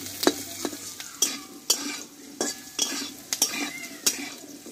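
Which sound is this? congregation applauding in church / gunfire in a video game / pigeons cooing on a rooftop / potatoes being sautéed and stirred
potatoes being sautéed and stirred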